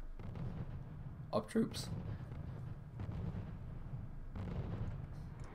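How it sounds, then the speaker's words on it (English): Artillery shells boom in the strategy game Wargame, with a couple of sharp blasts close together early on and duller rumbles later. Someone talks over the battle noise. "You might be able to get another murder with these artillery fires."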